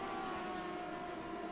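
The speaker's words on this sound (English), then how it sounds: "That's the sound of the police!" Police car siren during a 24 Hours of Daytona endurance race in a racing game, a steady sustained wailing tone heard alone at moderate volume.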